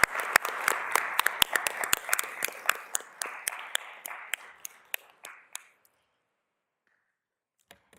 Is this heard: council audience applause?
yes